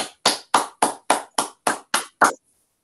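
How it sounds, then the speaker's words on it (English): Participants in an online seminar unmute and clap after a talk, giving nine distinct, evenly spaced claps in a quick regular rhythm, close and crisp, then silence. "let's unmute and give Raphael a round of applause"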